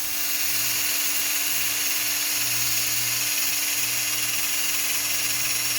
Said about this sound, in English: I think the drill's not good enough.